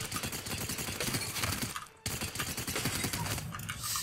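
Rapid rifle fire in Apex Legends, bursts of dense automatic shots close and loud, broken by a brief pause near the middle before the firing resumes, with a voice talking underneath.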